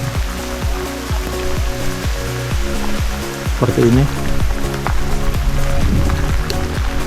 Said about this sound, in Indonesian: Ini posisi di puncak, hujan.